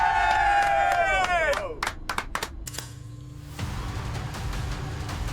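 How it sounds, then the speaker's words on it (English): A submarine crew bursts into cheering and clapping after a tense silence, with a rising shout, scattered sharp claps, then a low crowd hubbub settling underneath. "The crew let out a cheer."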